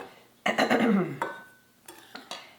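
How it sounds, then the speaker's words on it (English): A spoon scrapes and clinks against a bowl while stirring flour, sugar and baking powder together for chocolate chip muffin batter. A few short, close bursts of stirring are separated by brief pauses. "just stir all that together"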